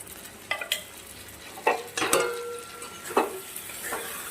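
Spices and ground masala for a Katla fish-head muri ghonto are stirred and fried in a pan, with a few distinct scraping and clinking strokes of a spoon over a soft sizzle, close and clear, no talking.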